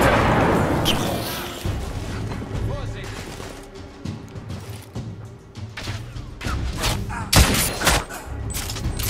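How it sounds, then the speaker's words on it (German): Gunfire and explosions from The Order 1886 video game: rapid bursts of shots and heavy booms, loud and close, with a voice speaking over the battle. "Ich stehe unter Beschuss!"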